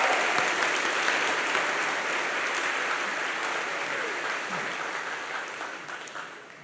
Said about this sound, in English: Let's give a round of applause to all of these wonderful nominees.